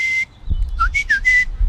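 A person whistles with an open mouth, shaping the notes with the tongue: a held clear tone, then a quick run of short rising and falling pitched chirps, loud and close.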